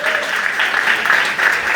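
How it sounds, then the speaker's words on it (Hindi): A church congregation claps loudly in praise during a service, a dense burst of applause with a voice faintly carrying beneath it. "खुदावन के लिए जोरदार तालियां इसके लिए।"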